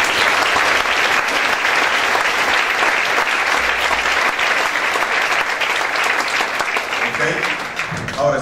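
Sustained, loud congregation applause fills a church service, a dense steady roar of many hands clapping without pause, with voices mixed in and tapering slightly at the very end.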